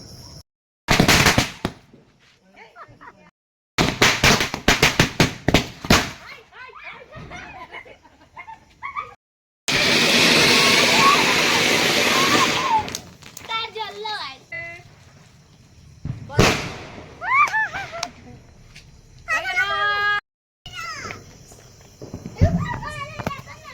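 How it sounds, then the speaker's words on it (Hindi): Sparkler firecrackers set off during Diwali celebrations in a village, with loud bursts of hissing crackle separated by pauses, while people talk and call out between them. "पटाखा मतलब छुरछुरिया, और सब लोग फोड़ रहे हैं।"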